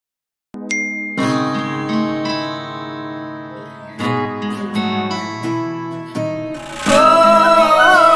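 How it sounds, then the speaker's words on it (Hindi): A phone rings with a bright, tinkling electronic melody that grows louder and fuller as it repeats, sounding close and clear with no talking over it. "गीत, तुम्हारा फोन"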